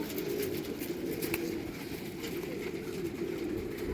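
Pigeons let out from a loft, soft cooing and bird calls over a steady low background hum, fairly faint.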